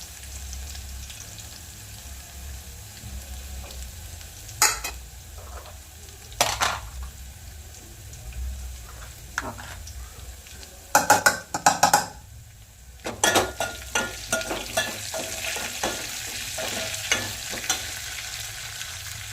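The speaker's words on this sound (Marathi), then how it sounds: "मी कोथिंबीर घालत आहे फोडणीला" Coriander hits hot oil in a tempering for a spinach dish, giving a steady sizzle throughout, broken by sharp clinks and scrapes of a spoon stirring against the pan, with no voices.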